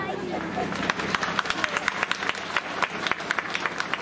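An outdoor comedy show crowd in Sant'Agata di Puglia applauds with crisp, uneven claps, mixed with steady background chatter and murmuring voices.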